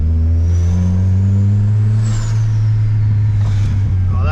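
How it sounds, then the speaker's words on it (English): A car engine fitted with a Garrett turbo holds a loud, steady drone close by, with a rising whistle from the turbo spooling above it and brief fluttering hisses near the end. "Listen to that Garrett turbo sing."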